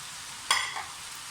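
Spaghetti and chopped green onions drop into a hot frying pan with a single sharp sizzle that quickly fades. The sound is short and close.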